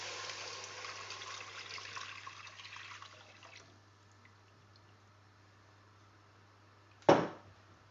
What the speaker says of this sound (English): you want to just carefully add your milk